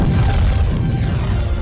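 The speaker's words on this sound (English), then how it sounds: "this is exactly why I needed the bombs" Bomb explosion in The Legend of Zelda: Majora's Mask in a snowy mountain area, a single loud booming blast with a rumbling decay, close and alone.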